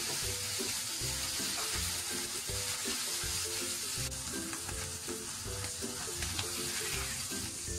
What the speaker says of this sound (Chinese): 煎了大约1到2分钟以后，我们把鸡胸肉翻过来煎另一面